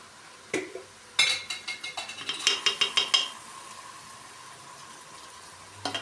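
Tomato paste is spooned into a hot pan with a quick metallic clink, followed by a run of sharp spoon taps and scrapes against the pan and a soft, steady sizzle underneath; nobody speaks.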